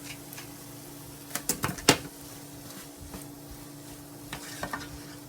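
Apple and zucchini mash being stirred in a pan after the heat is turned off, with a quiet bed of sizzling and a few scraping spoon strokes clustered together, the sharpest one standing out briefly before the kitchen settles back to a low hiss.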